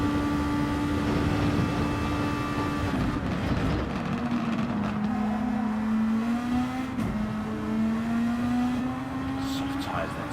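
A formula race car in a Super Formula sim race at Catalunya drones steadily at high revs, with the engine pitch dropping in steps as it downshifts, then climbing again, continuous and close.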